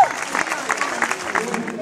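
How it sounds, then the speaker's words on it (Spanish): An audience applauds a race winner at a 10K awards ceremony, a short burst of steady, fairly close clapping with a voice talking over it. "ese aplauso para Andrés, que ha hecho muy, muy buen tiempo"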